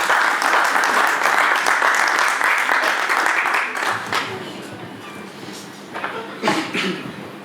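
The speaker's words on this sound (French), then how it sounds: "Merci d'applaudir pour elle, s'il vous plaît." Audience applause at a self-esteem conference, a dense, loud wash of clapping that fades over several seconds, with a few scattered claps and voices rising near the end.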